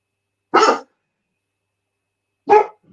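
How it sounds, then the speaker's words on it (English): Two short, loud dog barks sound close by outside a window, about two seconds apart, with silence around them. "somebody walking the dogs past the window"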